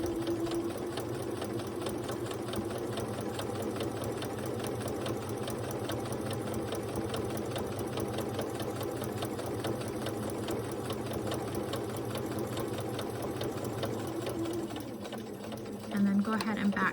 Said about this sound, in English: I'm going to stitch this all the way across, staying directly on the line.